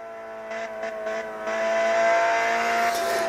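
A race car engine in a mobile racing video game plays on a smartphone, a steady, droning, buzzing engine tone that swells slightly louder midway and holds on.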